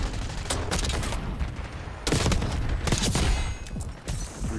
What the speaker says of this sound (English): It just drops a cluster bomb in the back.